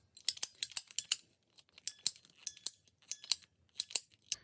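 PVC pipe, 3-inch diameter, cut into short pieces with a hand cutter, giving a close series of crisp, snappy clicks and crunches in three short bursts with brief pauses between, no voices.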